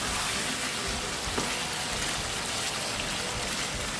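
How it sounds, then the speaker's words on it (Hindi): Yogurt chicken fries in a pot with a steady, even sizzle and bubbling hiss, close and continuous, with no talking. "और इसको मैं तकरीबन 2 से 3 मिनट इसको और भूनेंगे"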